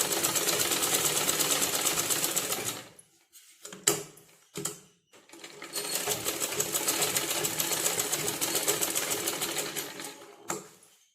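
Close sewing machine stitching lining and main cloth together in two sustained runs of rapid needle chatter, separated by a pause with a few short bursts and clicks.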